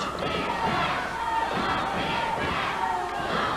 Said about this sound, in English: he's getting the crowd fired up